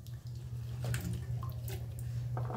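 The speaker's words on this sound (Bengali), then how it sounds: "ধুয়ে উঠিয়ে নিলাম।" Carrots and beans being washed in water for fried rice, with soft splashing and trickling sounds over a steady low hum, close by and continuous for a few seconds.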